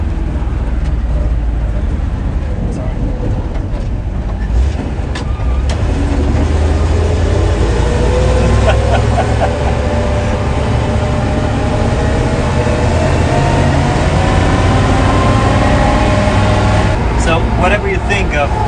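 Ural 375D truck engine droning steadily from inside the cab on a bumpy ride, a loud continuous low rumble with rattles and occasional clunks throughout.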